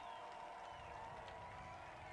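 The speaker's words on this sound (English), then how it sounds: "the crowd, my goodness, this crowd coming alive" Football stadium crowd roaring and cheering at a Blue Dragon versus Garden City game, a steady, dense wall of voices with no break, heard from within the stands.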